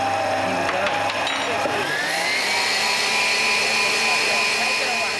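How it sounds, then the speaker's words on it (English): An electric mixer beating egg whites with honey hums continuously and loudly at close range, with a steady whirring drone and a slight rise in pitch partway through. "after 10 minutes, we beat it for 20 minutes with the honey"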